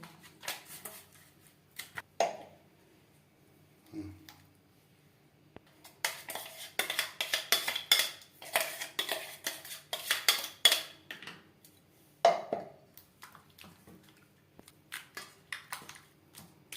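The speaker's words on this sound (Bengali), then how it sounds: "সবার প্রথমে আমি মাছের লবণ হলুদ বেশ ভালো করে মেখে নেব।" Katla fish pieces rubbed by hand with salt and turmeric in a metal dish, giving bursts of wet scraping and clinking against the bowl, busy and close between brief pauses.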